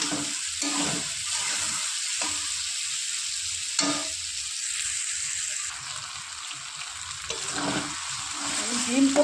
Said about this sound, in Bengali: পেঁপে আলু দিয়ে কিছুক্ষণ কষিয়ে নেব।